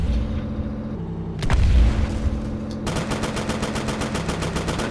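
Rapid machine gun fire in a tank combat video game, a fast steady stream of shots from about three seconds onward after a louder heavy boom, close and loud over constant engine rumble.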